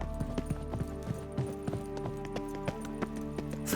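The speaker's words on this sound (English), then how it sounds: "Footsteps." Footsteps in the video game The Witcher 3: Wild Hunt, a steady run of hard, clopping steps over a sustained tonal music bed, close and evenly paced without speech.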